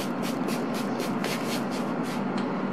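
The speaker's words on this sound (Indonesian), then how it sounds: "Oke, langsung saya semprotkan." A spray bottle mists liquid onto shaped bread dough, giving about ten quick hissing puffs in a steady rhythm, fairly close and continuous, with no talking.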